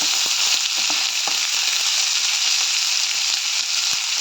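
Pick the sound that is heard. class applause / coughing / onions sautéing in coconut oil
onions sautéing in coconut oil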